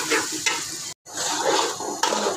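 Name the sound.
sautéing lentils in a pot for khichuri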